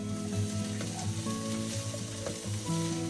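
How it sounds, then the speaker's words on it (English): Cabbage and carrot frying in a pan, a steady close sizzle with stirring scrapes throughout, no talking. "Now cook the cabbage and carrot first,"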